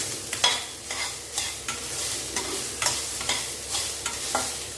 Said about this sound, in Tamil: நல்லா கலந்து கொடுத்துக்கோங்க